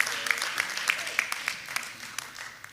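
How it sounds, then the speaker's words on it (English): Shareholders at a food company's annual general meeting clap together, a modest, fairly sparse round of hand claps lasting under three seconds, with a few sharper individual claps standing out. "Let us clap for them, please"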